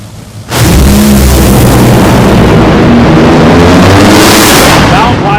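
Top fuel dragster making a qualifying run at Z-MAX Dragway in Charlotte, North Carolina: an abrupt, overwhelming wall of engine roar bursts in after a half-second and holds at full loudness before starting to fade near the end.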